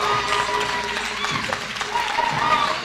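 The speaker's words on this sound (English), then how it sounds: "another round of applause for the winners," Crowd applause and scattered cheering for debate winners at an anniversary celebration in a hotel venue, a continuous busy wash of clapping with chatter and voices mixed in throughout.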